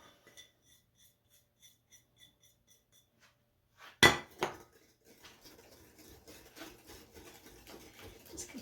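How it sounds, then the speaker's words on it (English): A whisk clinks lightly and intermittently against a bowl, then lime juice and zest go into a margarita bar mixture with a sharp clatter, followed by steady close whisking and scraping at moderate volume. "Just continue whisking until everything's mixed in."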